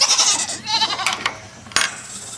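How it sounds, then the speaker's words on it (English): Goats being let out of their pen at dusk after fence repairs, several bleats overlapping close by, with a short sharp clatter near the end. "so we're going to release the goats."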